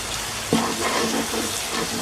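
Flour cooking in a pan as the base of a creamy mac and cheese sauce gives a steady soft sizzle and crackle, with a brief utensil knock or stir near the start and no talking.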